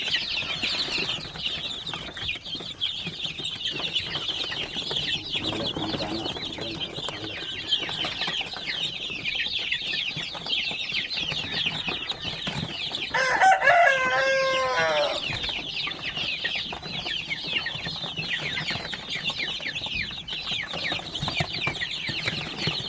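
Basilan native chickens, a flock delivered to Davao City, cluck and chatter continuously. Roughly midway, one rooster crows loudly and clearly above the steady clucking.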